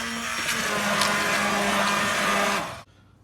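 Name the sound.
blender blending soup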